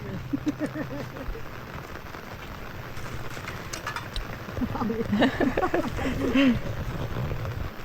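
Rain falls steadily in a wooded garden setting, a continuous patter on surfaces, while people's voices are heard intermittently in the foreground, growing busier toward the end.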